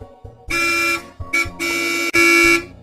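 A car horn honks repeatedly on a busy road: four loud, close blasts, some short and some held for about half a second, in a quick, impatient sequence.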